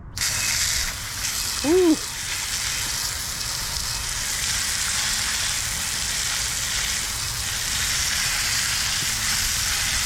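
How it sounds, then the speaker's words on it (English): Pressurised water spraying off a rear brake drum on a Honda, a loud continuous hissing spray throughout, with a brief voice near the start. "let's spray off this brake drum"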